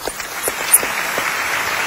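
Audience at a Bangkok school event applauding a visiting school, a fairly faint, steady patter of many hands with a few sharper claps standing out.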